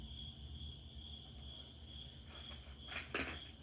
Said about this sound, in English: It's our YouTube moon background, and it has crickets in the background.